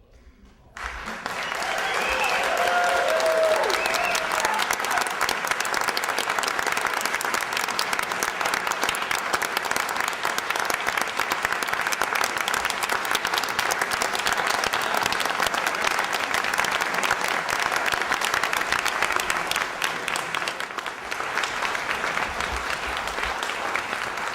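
Sustained audience applause before a choral performance, a dense, loud wash of clapping that starts abruptly, holds steady for over twenty seconds and eases slightly near the end.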